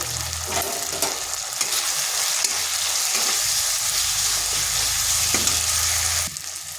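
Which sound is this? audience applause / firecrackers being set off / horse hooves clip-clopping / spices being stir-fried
spices being stir-fried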